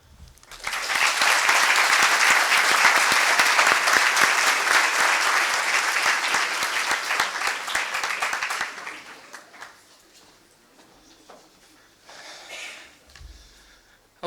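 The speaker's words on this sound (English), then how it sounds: "please enjoy the discussion and give a warm applause" An audience at a university lecture applauds the speaker with loud, sustained clapping for about eight seconds, then it thins out and fades to scattered claps.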